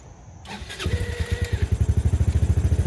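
A 250cc Hammerhead go-kart engine, in need of repair, cranks briefly and then catches, settling into a steady, loud, rhythmic idle without any throttle.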